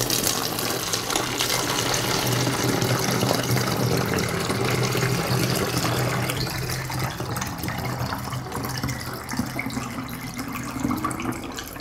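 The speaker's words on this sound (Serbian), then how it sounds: "Sipat ću litar vode." A litre of water poured into a bottle already holding dry yeast, a steady continuous gush and splash lasting the whole stretch, close and fairly loud, with the pitch slowly rising as the bottle fills.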